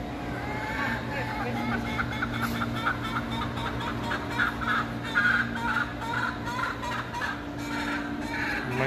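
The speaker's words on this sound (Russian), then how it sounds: "Крыся, тут вообще какие-то петухи и кролики." Roosters and other fowl in an aquarium petting area, gobbling and clucking calls under steady indoor background hum and murmuring visitors, moderate distance.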